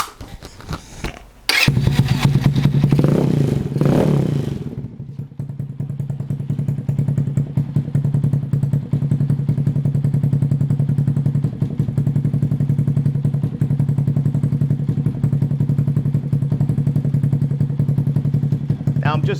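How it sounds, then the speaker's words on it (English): A motorcycle with its exhaust baffle removed starts with a sharp burst and clatter, then settles into a steady, loud, low idle that runs unbroken to the end. "We're going to do sound checks with it idled, and then of course with the engine revved"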